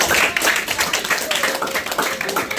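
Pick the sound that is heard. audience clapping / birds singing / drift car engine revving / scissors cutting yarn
audience clapping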